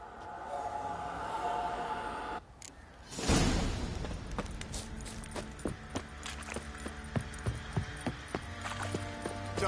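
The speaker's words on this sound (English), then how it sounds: "Time to water the horses." Horse hooves clip-clop at a steady walking rhythm in The Witcher video game, close and fairly clear, starting after a brief whoosh and continuing over an ambient background.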